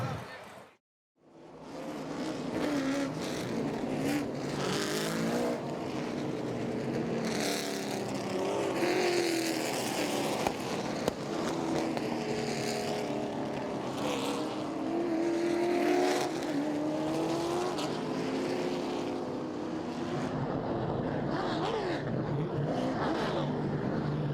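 Late model stock cars race at East Carolina Motor Speedway, engines droning and rising as the pack passes, with an announcer talking over the continuous roar.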